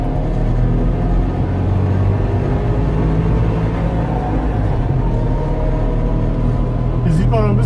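Trabant 601 car heard from inside while driving: a steady, loud low engine rumble and road drone runs throughout with little change. A brief higher whine rises near the end.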